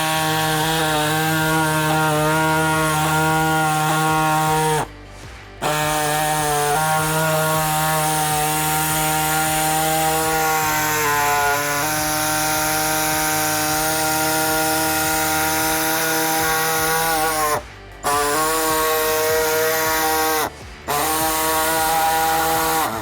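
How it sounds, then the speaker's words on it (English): A power saw cuts through a plastic bumper on a Nissan Frontier during an assault bumper install: a loud, steady, buzzing whine that runs close and continuous, broken by three brief stops. "I'm just gonna work the saw back through here, follow the same cut line"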